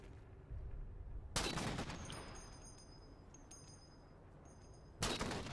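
Rifle fire in Halo: The Master Chief Collection comes as two sharp bursts about four seconds apart over quiet game ambience with faint electronic tones.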